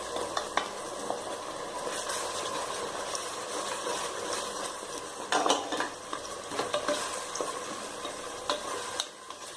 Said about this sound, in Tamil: கையை விடாம நல்லா வதக்கிட்டே இருங்க